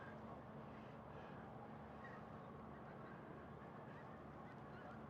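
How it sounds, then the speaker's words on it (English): Distant geese honking faintly over a steady low rumble of background noise at a fairground, the calls scattered and soft throughout. "you can hear geese."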